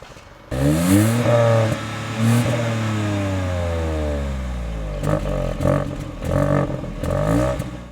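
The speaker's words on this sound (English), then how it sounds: "let me just rev the car and show it to you" A Hyundai Venue N-Line engine revs hard several times through a throaty dual exhaust, rising in pitch and falling back, with short blips near the end, loud and close.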